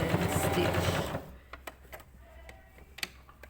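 A sewing machine stitches a puff sleeve sample in a loud, fast, continuous burst that stops after about a second, followed by quiet scattered clicks and taps of fabric handling.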